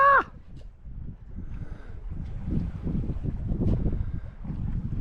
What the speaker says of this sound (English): Winds have picked up from astern to about 10, and I'm under sail